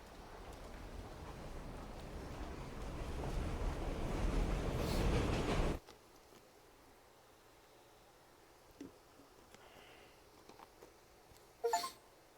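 A train in the video game Witch on the Holy Night rushes past as a loud, rising roar that cuts off sharply, followed by a quiet stretch with a few faint clicks and a brief clatter near the end.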